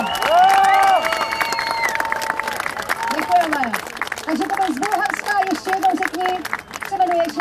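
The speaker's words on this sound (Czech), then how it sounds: "zatleskáme mu pořádně" Crowd applauding at a protest rally of the right-wing European Shield alliance, a sustained wash of clapping and cheering heard under a speaking voice amplified over the square.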